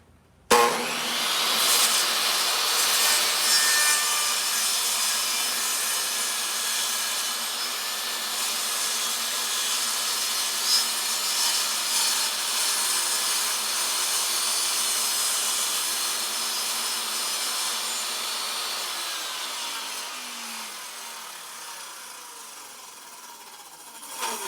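A saw making a long continuous cut through hardwood for a wall-mounted MacBook Pro dock, a steady loud whining rasp that holds evenly for about twenty seconds before winding down.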